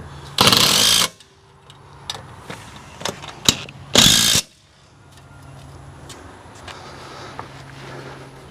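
Power tool driving down the bolts on an outdoor HVAC condenser, two loud bursts of about half a second each, separated by scattered clicks and clanks of metal parts, then quiet hum.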